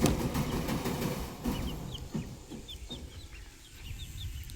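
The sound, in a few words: gamefowl chickens clucking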